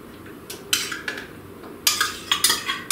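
A spoon scoops sour cream into a blender of muffin batter, clinking sharply against the container several times in irregular bursts, close and clear with no talk.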